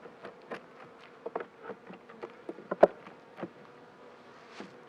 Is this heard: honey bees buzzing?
yes